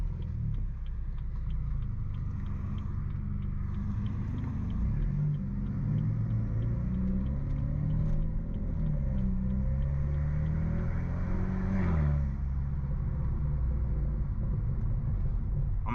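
A modified stage 2+ BMW F30 exhaust rumbles continuously while driving, a deep, steady low drone with shifting engine tone and a brief swell near the middle, heard alone without talk.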